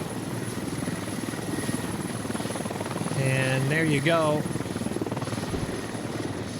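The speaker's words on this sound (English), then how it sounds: "That's a helicopter. That's a Russian helicopter." Russian Mi-8 Hip military helicopter flying over hilly terrain in a combat zone, a steady loud rotor drone throughout that swells as it passes, with people talking over it.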